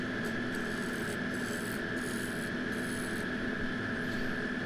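A shear-scraping tool rasps bark off a punky willow bowl spinning on a wood lathe, a continuous close rubbing scrape over a steady motor hum, with slight periodic pulsing.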